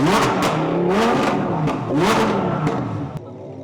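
A powerful supercar engine revs hard and loud up close, its pitch sweeping upward in repeated surges with a roaring, throaty growl.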